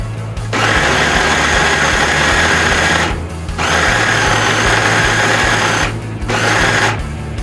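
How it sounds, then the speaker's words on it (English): A small Ninja food processor with dual blades grinds bacon in three loud, continuous bursts of whirring motor noise, split by brief pauses, close by and with no talking. "most people do have a food processor, and this little Ninja does a great job"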